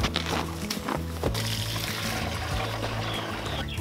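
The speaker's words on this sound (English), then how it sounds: "So we'll fill this up with water." Water pours from a tap into a 16-ounce glass jar, a steady close gurgling stream with a few splashy bursts, no voices.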